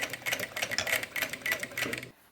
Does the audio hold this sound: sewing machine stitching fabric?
yes